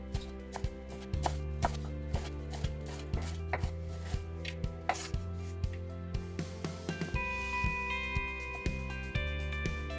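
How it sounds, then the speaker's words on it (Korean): Washed perilla leaves finely julienned with a knife on a cutting board, a quick, steady run of crisp chopping taps, close and clear with no voices. "깻잎은 흐르는 물에 깨끗이 씻어서 잘게 채 썰어 줍니다"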